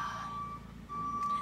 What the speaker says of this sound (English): Anyone else love to pull the beep out of their JCB shovel?